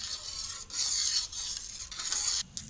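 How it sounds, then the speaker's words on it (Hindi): A spoon stirs thickening hot and sour soup in a pot, making soft, repeated scraping swishes in uneven strokes with brief pauses, close and fairly quiet, with no talking. "साथ साथ हम चमचा हिलाते जाएंगे।"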